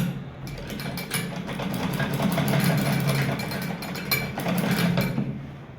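A sewing machine stitches a folded fabric hem on a trouser cuff, producing a rapid, rhythmic mechanical chatter that rises and falls in speed across the stretch, close and fairly loud.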